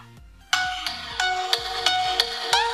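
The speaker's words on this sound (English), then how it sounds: "Let me play a clip so you can properly get the idea of how the speaker sounds of this phone." An Infinix Hot 7 budget smartphone plays a clip through its bottom speaker: a bright, tinny melody of repeated plucked, bell-like notes in an even rhythm, close and fairly loud.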